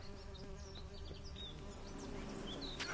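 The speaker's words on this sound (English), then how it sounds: "Yeah, I hear bees." Bees buzz steadily in The Witcher 3, a dense, close swarm drone with individual insects whining past, carrying on alone with no talking.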